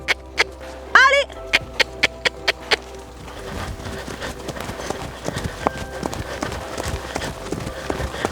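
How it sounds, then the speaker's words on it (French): Horse trotting on long reins along a straight path, hooves clip-clopping in a steady, regular rhythm near the listener, preceded by a few sharp clicks and a brief whinny-like call. "on essaye de la faire trotter sur une dizaine de mètres"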